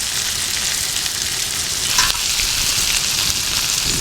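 Sanduva fish fries in hot oil in a village kitchen, a dense, loud, steady sizzle crackling without pause, with one brief sharper hiss partway through.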